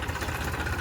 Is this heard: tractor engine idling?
yes